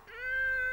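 An animated dog character lets out a single drawn-out, meow-like wail, a voice imitating a cat, heard alone, close and fairly loud for under a second.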